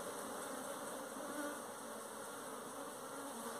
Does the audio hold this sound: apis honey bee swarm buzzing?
yes